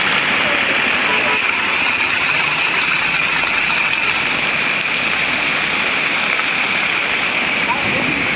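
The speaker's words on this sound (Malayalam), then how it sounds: "ഇവിടുന്ന് വെള്ളം ഇങ്ങനെ ചാടും" Rainwater gushes and splashes over a bridge on the NH66 highway during heavy rain, a loud, steady broadband roar of rushing water filling the whole clip without a break.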